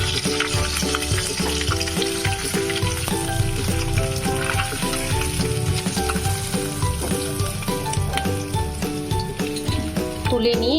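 Pabda fish frying in a pan of hot oil, a steady, dense sizzle that runs unbroken throughout with a tonal musical bed layered over it.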